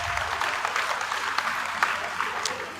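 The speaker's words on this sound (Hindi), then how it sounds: "उनके लिए जोरदार तालियों की आवाज।" Crowd applause at a Haryana political rally, a steady wash of clapping from a sizable audience that continues without pause through the moment, fairly loud and close.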